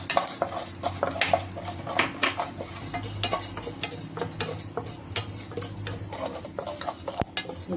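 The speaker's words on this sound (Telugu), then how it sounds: "ఉద్దిపప్పు వేసుకొని ఆయిల్లో వేయించుకోవాలి మనము" Urad dal frying in oil in a pan, stirred with a metal spoon, giving quick close clinks and scrapes against the pan over a faint low sizzle; no voices.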